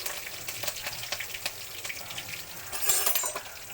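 A base of oil with green chillies and curry leaves, for onion sagu, sizzles steadily in a pan: a dense, even crackle with small pops and a brief louder flare near the end, with no talking.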